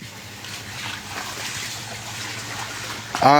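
Floodwater from the 2024 Sylhet floods pours into homes in Sherpur, a continuous rushing, trickling flow with a low rumble beneath and a louder splash at the close.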